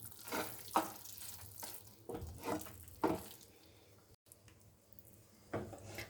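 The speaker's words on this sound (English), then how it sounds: "Now let's add some veggies and give it a good stir." Vegetables and cheese being stirred in a pan, with a handful of soft, scraping bursts coming at uneven intervals over a faint background hiss; quiet and close, with no talking.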